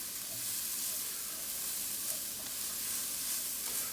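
Ground turkey, 93% lean, sizzles and fries steadily in a pan while being stirred, a dense continuous hiss with occasional soft scraping, close and even throughout without talk.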